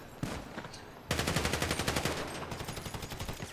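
Rapid automatic gunfire in GTA 5 Online during a heist mission: a single shot, then a long burst of evenly spaced shots, loud and close, with no voices over it.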